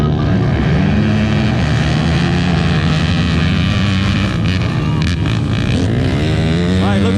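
Yamaha Raptor 250 quad engines in a junior ATV race at a Bartow trail-riding event, a loud continuous whining drone of several motors rising and falling as they pass, with faint voices underneath.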